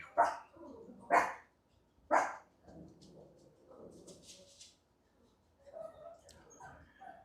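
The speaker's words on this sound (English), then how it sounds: "Let me let them dogs stop." Dogs barking nearby in three sharp, separate barks early on, then quieter rustling and faint murmuring.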